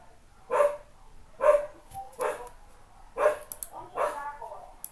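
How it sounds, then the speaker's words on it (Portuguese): A pet dog barking indoors at home, about five loud, separate barks with short gaps and a few softer yips in between, close to the microphone and with no talk over it. "meu cachorro tá latindo"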